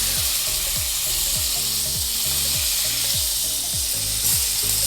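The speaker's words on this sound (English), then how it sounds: "So just get your steak and begin to render the fat." A steak's fat edge renders in a hot pan with a loud, continuous sizzle and frying crackle, with a rhythmic scraping or clicking repeating about twice a second underneath, and no one speaking.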